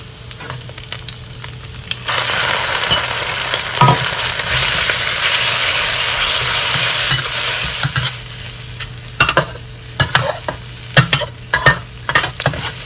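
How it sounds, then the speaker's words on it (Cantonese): Beef hits hot garlic-scented oil in a wok for fried rice, bursting into a loud, sustained sizzle that gradually fades into bursts of quick scraping and stirring strokes, close up with no voices. "咁爆香佢，我哋就倒啲牛肉落去。"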